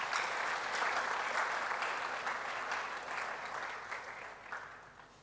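A university lecture audience applauds the Vice Chancellor, a full, steady round of clapping that gradually thins and fades over the last seconds.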